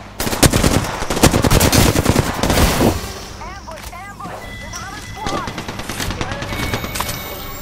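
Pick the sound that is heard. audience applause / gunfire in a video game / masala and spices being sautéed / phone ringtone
gunfire in a video game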